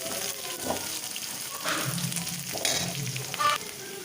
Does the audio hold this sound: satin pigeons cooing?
no